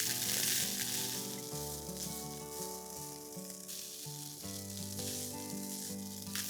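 Vegetable fried rice tossed in a pan gives a faint, steady sizzle and frying crackle under background music, without speech.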